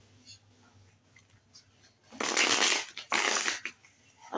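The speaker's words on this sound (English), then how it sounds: "I'm going to shuffle these cards up" Tarot cards shuffled by hand in two close, loud bursts of papery riffling, after a few seconds of quiet room tone.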